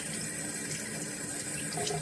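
Tap water runs steadily into a sink while a carburetor part from a Pilot 912 feed setup is rinsed out, a continuous close splashing hiss with no talking.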